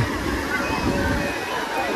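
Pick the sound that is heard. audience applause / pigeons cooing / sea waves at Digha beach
sea waves at Digha beach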